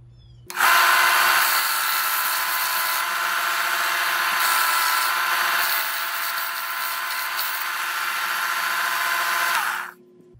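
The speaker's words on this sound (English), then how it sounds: "Next comes sanding. I'm gonna sand each one of these." Steady, loud power sanding on wood runs continuously for about nine seconds, a broadband whirring rasp that starts abruptly and cuts off near the end.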